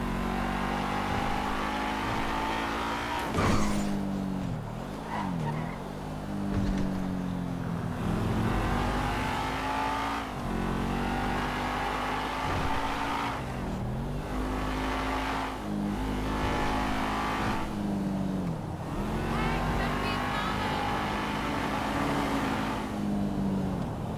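Car engine driving in the video game Grand Theft Auto V, a steady loud drone with repeated revs rising and falling through gear shifts across the whole stretch, no talk.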